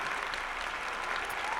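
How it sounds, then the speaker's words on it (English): Round of applause from an audience, dense steady clapping heard close for under two seconds with no voices over it. "Let's give Karen a round of applause."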